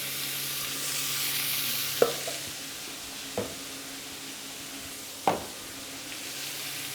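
Chopped leeks sizzle steadily in a hot pan as they are stirred, with a few distinct scraping knocks of the utensil against the pan standing out over the continuous frying hiss; no one speaks.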